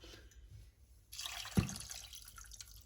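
Water poured into a cooking pot with turmeric while making chicken kachori filling, a sudden steady rushing splash that starts after a quiet pause, with a small knock partway through, heard close and alone.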